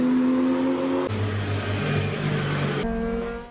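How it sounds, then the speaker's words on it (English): A modified car speeds along a road at night, its engine roaring loudly and shifting pitch as it revs and accelerates close by, with no talk over it. "There will be modified vehicles that speed through the roads."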